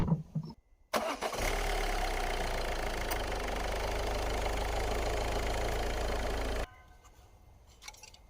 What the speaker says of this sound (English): Run the car for probably 20 seconds.